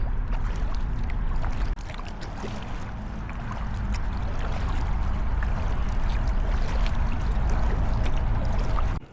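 A kayak paddles on the water near the Goethals Bridge off Staten Island, New York City, with continuous close splashing and rushing water running steadily from start to finish.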